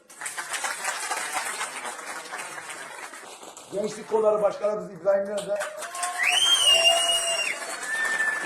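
An audience at a CHP political rally in Malatya applauds in a dense burst of clapping and crowd noise for the first few seconds, then someone speaks over a loudspeaker while scattered applause and cheers continue beneath.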